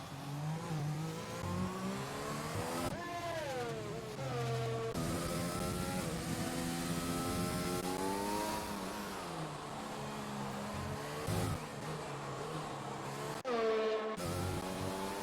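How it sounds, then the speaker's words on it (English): A race car in a sim racing game pushes through a fast qualifying lap in Mexico, its engine revving and climbing through gears in sweeping pitch rises, with sharp cuts at shifts and a steady, close-up roar throughout. "Scotty Fennell, who is setting a lap time right now, just started his fast lap"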